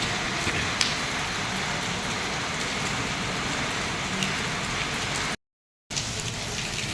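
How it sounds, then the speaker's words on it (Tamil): A downpour hammers down outside a hospital in an unbroken, loud wash of patter and hiss, with a short gap of silence late on before the rain resumes. "எவ்வளோ அதிகமாக மழை பெய்யுதுன்னு பாருங்களேன்."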